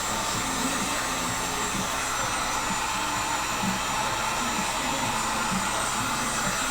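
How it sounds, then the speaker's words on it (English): A heat gun blows steadily while heating material for a take-down Sipahi bow, a loud continuous hairdryer-like roar with a faint pulsing low hum beneath, no talking. "I gotta keep drawing the heat gun back because my impulse is to put it right up against it."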